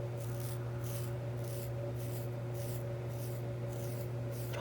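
Soft, rhythmic scraping strokes of a dermaplaning razor on facial skin, close and quiet, repeat about twice a second over a steady low electrical hum.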